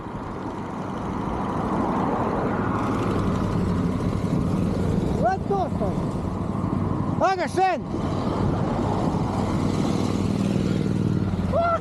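A Morgan car engine roars loudly and steadily throughout in an English street setting, a continuous rumbling drone with voices talking over it in short bursts.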